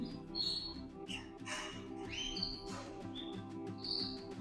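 Yorkshire canaries, adults and chicks in a breeding aviary, chirp and trill in repeated bright calls close by, several birds overlapping continuously with no talk.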